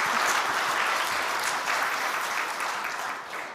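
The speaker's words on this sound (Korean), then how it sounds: "다시 한번 이 네 분을 위해서 우리 박수 한번 할까요?" A church congregation applauds during a Sunday worship service, a thick, even wash of many hands clapping together that carries on steadily and eases off slightly at the close.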